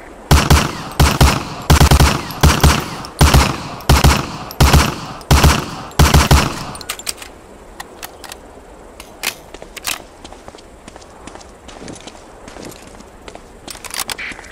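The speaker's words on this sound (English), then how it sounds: "Shoot that target 20 times with the Thompson" Thompson submachine gun rapid-fire bursts at a practice target on a Medal of Honor: Allied Assault boot camp range, about eight loud, evenly spaced bursts, then quieter scattered shots and clicks with distant background rumble.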